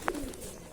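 A pigeon on a temple gives a single soft coo close by, with quiet background around it.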